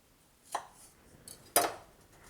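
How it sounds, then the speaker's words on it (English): Knife cutting strawberries into quarters on a board: two crisp chopping taps about a second apart, the second louder, with a faint tap between them in a quiet room. "really just chop them into quarters"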